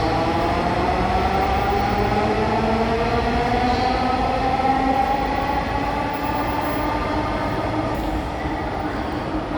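A Dhaka metro rail train rolls past a station platform with a loud, steady rumbling roar and a rising and falling whine from the motors, close by and continuous, with no clear talk.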